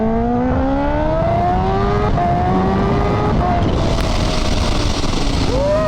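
A Kawasaki Ninja H2 superbike riding through city traffic, its engine rising and falling in pitch through repeated revs and gear changes, loud and steady with wind and road noise throughout.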